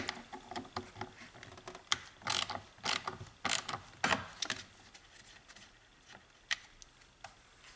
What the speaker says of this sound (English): I'll start by removing these screws here, and those are held on by a T25.